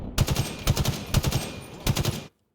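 Quick bursts of rifle fire crackle in Halo Infinite, four rapid clusters of shots in a row, loud and close, ending abruptly.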